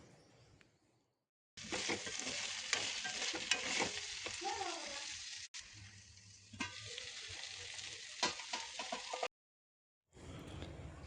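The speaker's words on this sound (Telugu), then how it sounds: "కొద్దిగా కరివేపాకు వేసుకొని ఒక టమాటా వేసుకోవాలి కట్ చేసి మెల్లగా కలుపుతూ ఉండాలి" Okra frying in a pan with curry leaves and chopped tomato, stirred slowly: a steady, close sizzle with scraping strokes. It runs in two long stretches broken by short silent gaps.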